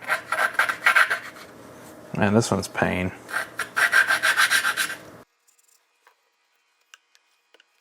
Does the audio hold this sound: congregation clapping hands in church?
no